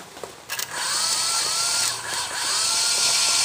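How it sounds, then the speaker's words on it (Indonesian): An electric dynamo motor starts up for a bearing endurance test, a few brief clicks and knocks giving way to a steady high whine and hum that runs continuously, close and loud. "kita tes terlebih dahulu untuk ketahanan bearingnya atau dinamonya. Lanjut kita hidupkan."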